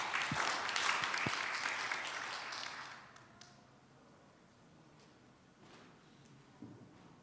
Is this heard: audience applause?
yes